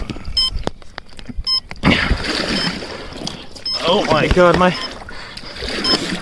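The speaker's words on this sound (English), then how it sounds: "this boat's like filling up with water" Water sloshes and splashes into a small flooding boat amid wind noise, with a voice exclaiming loudly over it.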